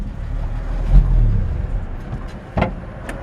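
Engine of a 1954 Chevrolet 3100 short bed truck running, a low idling rumble with a brief rev swell and a couple of sharp clunks, close and fairly loud.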